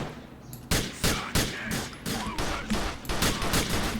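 Rapid gunfire in GTA: The Lost and Damned, a run of loud, sharp shots at a steady rhythm that starts abruptly and carries on without voices.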